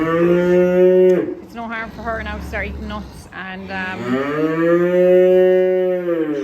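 Cattle mooing loudly inside a farm shed where housed heifers and calves are fed silage, with long drawn-out calls rising and falling close by while a person talks over and between the moos.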